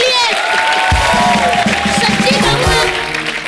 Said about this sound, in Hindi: बॉबी जी, जोरदार तालियां इनके लिए